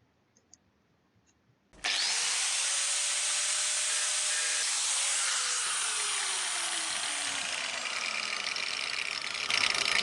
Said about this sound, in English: get the angle grinder and cut it directly across that line